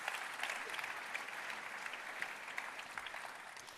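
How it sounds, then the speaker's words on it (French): A crowd at an awards ceremony for regional startups gives a warm round of applause, many hands clapping in a steady, lively patter that holds evenly for several seconds without voices. "On les applaudit."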